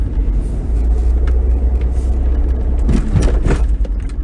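Inside a moving car, a dense low engine drone and road rumble run continuously and loudly, with a few brief higher clunks and rattles near the end and no talking.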